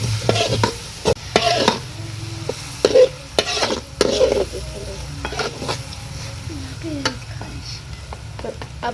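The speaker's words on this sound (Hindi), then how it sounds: "और साथ में इसका चम्मच चलाना है।" Spoon stirring green chilli and tomato in a cooking pan, with repeated scraping strokes over a steady sizzle and a few sharp knocks against the pan.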